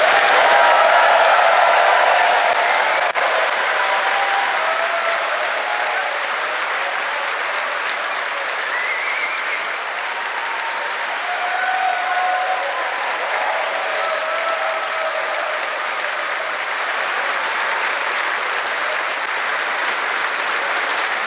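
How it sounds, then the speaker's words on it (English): A festival crowd at an opening ceremony gives a long, sustained round of applause, a broad, even roar of clapping with faint cheers and whoops rising within it. "So I would really like a round of applause from everyone here to give him"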